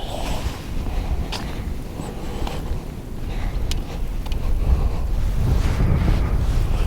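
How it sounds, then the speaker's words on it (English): Strong, steady wind roars over snowy badlands in late-February cold, a broad continuous rush that gusts louder toward the end, with no talking. "And boy, is it windy."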